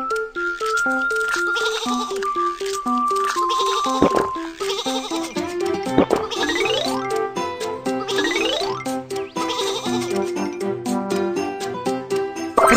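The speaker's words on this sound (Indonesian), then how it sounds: "Kawanan domba ada di jalur." Several cartoon sheep bleat repeatedly, overlapping calls near and far, with a faint tinkling of bells and crunching steps underneath.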